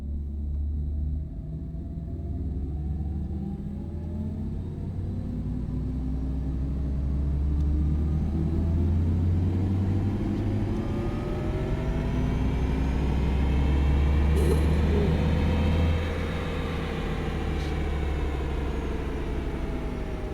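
An Audi e-tron GT electric car accelerating and cruising, its synthesized drive sound a low humming rumble with rising and falling whine tones that swell and fade, steady road noise beneath, no voices.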